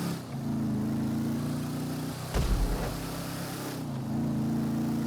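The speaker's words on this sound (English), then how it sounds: "enjoy the sound of the really loud engines" A classic muscle car engine in GTA 5 rumbles at a low, throaty idle with a brief louder burst of revving midway, heard fairly quietly with no talk.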